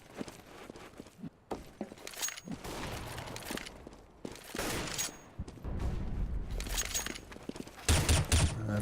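M4A1 rifle fire and other gunfire in a Counter-Strike match, sharp bursts and scattered shots with footsteps between them, fairly faint and busy throughout.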